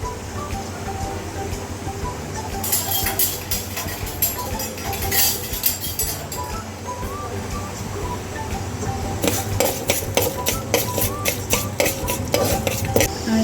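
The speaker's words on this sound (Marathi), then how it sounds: "तर मी इथे थोडंसं तेल टाकून मेथीदाणा भाजून घेणार आहे." Fenugreek seeds roasting in a little oil in a pan, stirred with a utensil, with repeated scraping and light metallic clinks close by and a faint sizzle beneath, for a moong dal vadi preparation.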